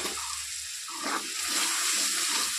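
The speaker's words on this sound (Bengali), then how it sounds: "মশলাটা ভালো করে কষানোর জন্য একটু জল দিয়ে দিচ্ছি।" Water splashes continuously into a hot pan of spiced masala with chilli powder for a potato and aubergine curry, a steady near hiss and sizzle with no talk.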